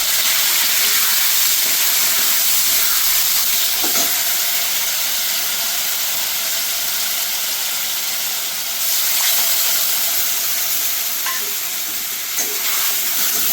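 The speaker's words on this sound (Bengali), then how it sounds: "মশলাটাকে একটু ভালো করে কষিয়ে নেবো" Spice paste with tomato, green chilli paste and ginger paste frying in a pan, a steady loud sizzling hiss with occasional stirring scrapes, continuous and close with no talk.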